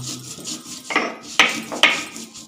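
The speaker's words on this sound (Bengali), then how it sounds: "এবার আমি সবগুলো একসাথে আবার বেটে নেব" Black mustard seeds and salt ground together by hand, a few rough rubbing and grinding strokes with sharp scraping knocks, close and fairly loud, alone without talk.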